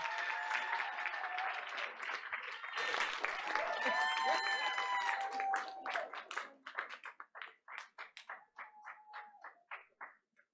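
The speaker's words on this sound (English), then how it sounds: "She deserves another round of applause." Audience applause at a board of education meeting builds into dense clapping and cheering, then thins out into scattered claps before fading.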